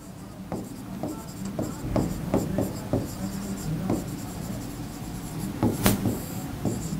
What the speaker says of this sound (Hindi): सेकंड लिखता हूं यहां पे मोहन